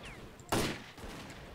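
A single sharp gunshot crack in the shooter S.T.A.L.K.E.R.: Clear Sky, fairly quiet overall, with a faint tail of ambient noise after it and no talk.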